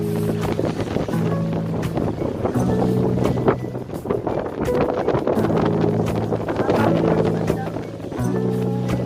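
Wind buffets the microphone in gusty, roaring waves at an outdoor viewpoint in Hong Kong, with a low droning hum and faint voices underneath.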